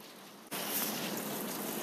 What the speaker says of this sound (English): it's starting to pour down rain outside